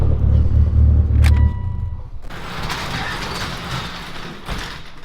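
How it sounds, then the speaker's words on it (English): Car engine idling after a new fuel pump install on a build aiming for 600+ wheel horsepower, a loud low rumble for about a second and a half, then a steadier, quieter running noise with a brief mechanical click. "I got that fixed and the car is actually idling, running good."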